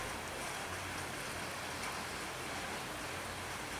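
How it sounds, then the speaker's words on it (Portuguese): Steady rain falls on a September day in Conselheiro Lafaiete, Minas Gerais, Brazil, making a continuous even hiss with no break. It sounds soft and fairly distant, with no voices. "E eu estou aí documentando essa chuva."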